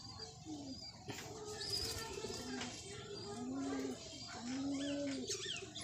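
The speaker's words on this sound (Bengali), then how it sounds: "তোমাদেরকে আমি পায়রা দেখাই" Pigeons perched on a roof, pecking at scattered rice, coo in soft, repeated rolling calls with a few faint chirps mixed in. The sound is fairly quiet and close by.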